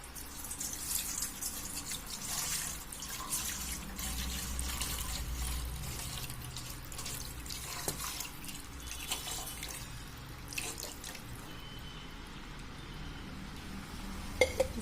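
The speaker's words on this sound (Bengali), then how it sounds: "এবার এখানে এই জলটা আমি দিয়ে দিচ্ছি" Water pours and trickles steadily into a bathing bowl, a soft continuous splashing with a few small drips and knocks, fairly close.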